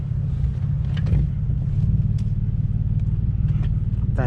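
A 2009 Mitsubishi Eclipse GT's engine rumbles steadily from inside the cabin as the car pulls away, a low, even drone with faint clicks and no speech.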